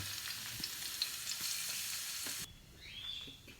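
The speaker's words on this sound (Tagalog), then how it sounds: "Sisimulan ko ng ihulog yung bawang. Mainit na siya." Garlic dropped into hot oil for a vegetable soup with chayote or papaya and moringa leaves, giving a steady, close frying sizzle that cuts off sharply partway through, leaving quieter crackle.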